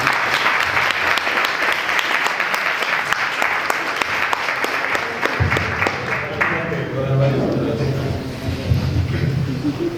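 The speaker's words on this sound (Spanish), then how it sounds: "Un aplauso para..." Audience applause at a public talk on left and right politics in Argentina, loud and continuous throughout, with a voice starting to speak over the clapping partway through.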